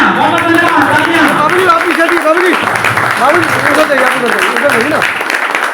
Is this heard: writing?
no